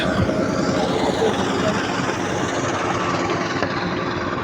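Idling boat engines rumble at a riverside launch ghat ferry landing, a steady low drone filling the scene with faint crowd babble underneath.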